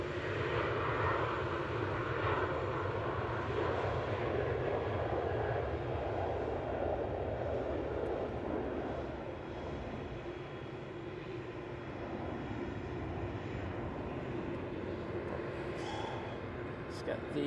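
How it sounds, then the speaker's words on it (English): A Ryanair passenger jet takes off at Manchester Airport, a steady, fairly distant engine roar that stays constant throughout, with people talking over it. "I'll grab that Ryanair quickly though."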